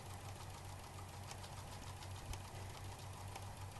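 A sewing machine free-motion stitches a diamond quilt design from a circular wreath stencil, a fast, even mechanical whirr and needle chatter running steadily, faint and close, with no talking.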